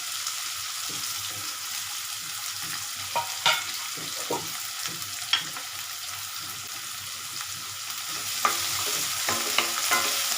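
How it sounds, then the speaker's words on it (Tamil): Onions and tomatoes sautéing in a pan: a steady, fairly faint sizzle broken by scattered scraping and stirring clicks from a spoon, with no voices. "நான் வெறும் வெங்காயம் தக்காளி மட்டும் போட்டு வதக்கிறேன்."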